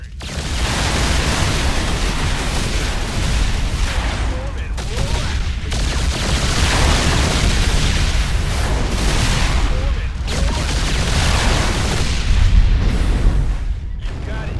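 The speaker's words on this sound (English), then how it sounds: "It's armed with 2 powerful missiles that it can use to engage enemy capital ships." StarCraft II Viking fighters fire missiles at battlecruisers in a dense, loud barrage of booming blasts and rumbling explosions that runs almost continuously. A narrator's voice carries over the battle noise.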